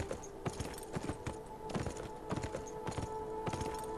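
Horse hooves gallop in the video game Beyond: Two Souls, a fast, steady rhythm of close clip-clopping beats over a constant tonal hum, with no talking.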